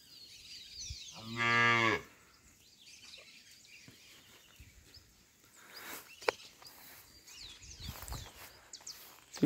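A single cow gives one loud, drawn-out moo early on in an open pasture where cattle are being let out to graze. Quieter rustling, light thumps and faint bird chirps follow in the background.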